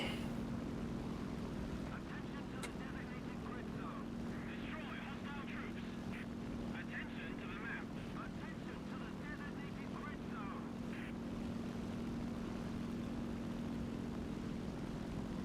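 Aircraft engine droning steadily in flight in the War Thunder video game, a constant low hum that holds for the whole stretch while people talk over it.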